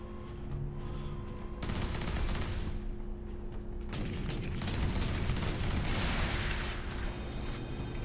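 Sustained gunfire and mechanical clatter in Warhammer 40,000: Space Marine, a dense rattling barrage of shots and booms over a steady hum, moderately distant and fairly quiet.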